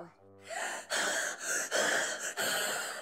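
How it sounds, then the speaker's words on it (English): A cartoon character breathing out hard onto a sheet of foil, a short tonal voice sound and then several loud, close, breathy exhales in a rough rhythm, the breaths voiced rather than natural. "And what if you breathe onto the foil?"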